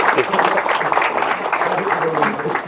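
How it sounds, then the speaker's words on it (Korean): Office colleagues applaud at a birthday celebration, moderately loud clapping mixed with overlapping voices and chatter throughout. "박수 한번 부탁드립니다"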